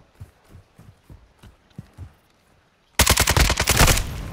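RPK light machine gun in Call of Duty Modern Warfare II, soft rhythmic footsteps first, then a sudden loud sustained burst of rapid automatic fire.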